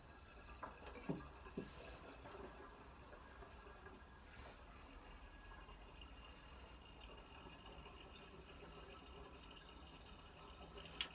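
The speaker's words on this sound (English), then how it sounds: "One demi-john nearly filled." Cider juice trickles steadily into a 5-litre glass demi-john, a faint, continuous pouring and filling sound with a few small drips, heard alone at low level.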